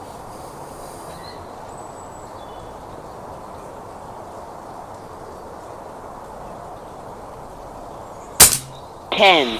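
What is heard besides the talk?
shots fired from a Retay T20 gun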